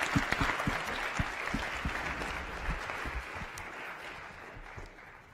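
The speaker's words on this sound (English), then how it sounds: "let's give one more round of applause to them" Applause from a conference audience, dense clapping that starts fairly strong and gradually thins and fades out over several seconds.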